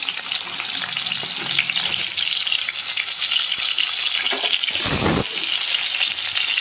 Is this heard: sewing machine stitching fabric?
no